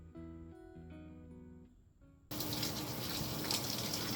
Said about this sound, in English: Once again, we're back in the shower.